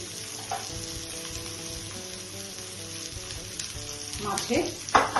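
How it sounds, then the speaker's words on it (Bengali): Eyl fish pieces sizzle steadily in hot oil in a pan for fish curry, a close continuous frying crackle that grows louder with sharp spitting pops near the end. "এইভাবে এদিকে এই সাইডে ফ্রাই হবে।"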